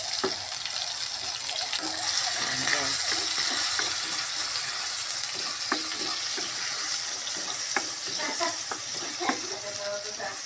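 Onion and tomato sautéing in a frying pan, giving a steady close sizzle with scattered scraping and clinking of a utensil stirring, while a voice speaks briefly over it.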